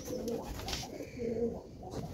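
Pigeons in a loft give soft, low cooing calls in two short bursts, close by and fairly quiet, with no talking.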